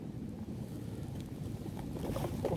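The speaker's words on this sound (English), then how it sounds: "Sorry about the wind today, it's pretty bad." Strong gusty wind buffeting a microphone outdoors during metal detecting, a loud low rumbling roar that swells slightly toward the end, with no talking.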